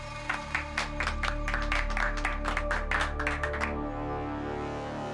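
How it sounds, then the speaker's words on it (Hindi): Students in a college classroom clap together in a sharp burst of distinct, fairly loud claps over a steady low background hum, then the claps stop and the hum carries on alone. "तालियां बजाओ।"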